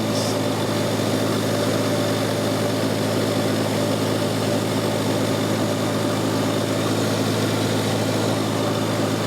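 A Farmall Cub tractor engine idles after a cold start at 24 degrees, a steady, loud, even low rumble with no talk throughout.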